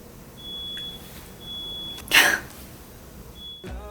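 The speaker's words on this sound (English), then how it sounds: "fire alarm." A thin high-pitched electronic beep chirps three times at steady intervals, faint and distant, with a brief rustle in between.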